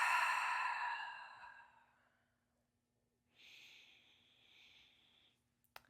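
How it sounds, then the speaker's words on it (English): A person takes a big, deep breath, a long, loud exhale that fades out, then a softer, airy inhale after a brief pause, heard alone. "just take a nice big breath."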